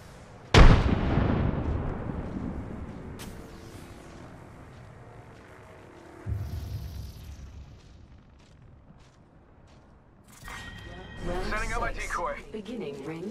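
Frag grenade blasts and gunfire in the Apex Legends battle royale game on the Worlds Edge map: a loud sharp explosion near the start decaying into rumble, another burst mid-clip and a final heavy burst, with game voice lines between.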